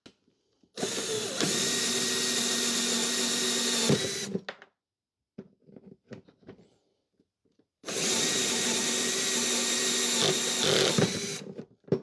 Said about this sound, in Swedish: Först så förborrade jag lite mindre hål och sedan blev det större.